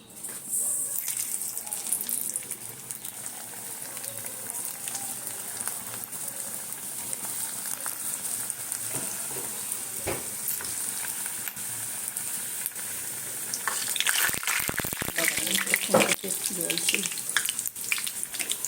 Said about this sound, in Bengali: চলো এবারে সিঙ্গাড়াগুলো আমি ভেজে নিই